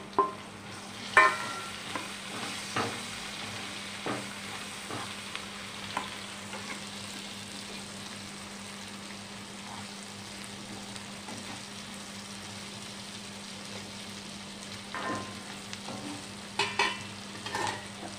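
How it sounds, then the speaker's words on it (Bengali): Fried prawns stirred in a pan for a Bengali prawn dish, giving a low, steady sizzle broken by a few sharp scraping knocks of the spoon near the start and end, with no talking. "আমি চিংড়ি মাছ ভাজাগুলো দিয়ে দিচ্ছি।"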